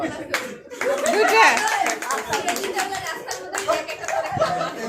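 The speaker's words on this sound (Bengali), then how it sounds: "হাততালি" Hands clap in an uneven patter at a family Eid gathering, mixed with lively chatter and laughter from several people.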